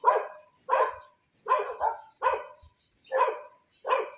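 A dog at an animal sanctuary and zoo barks six times in short, spaced bursts, fairly close and clear against a quiet background.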